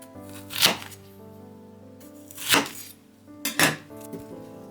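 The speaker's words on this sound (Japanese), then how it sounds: "よく洗ったら玉ねぎを薄く切っていきます" Onions being thinly sliced with a knife on a cutting board, with three distinct crisp cuts spaced a second or so apart against quiet background hum.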